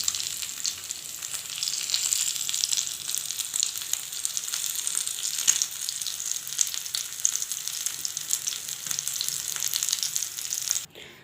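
Chicken tikka boti fry in an oiled pan over low heat, a constant crackling sizzle with occasional pops and stirring scrapes, ending abruptly.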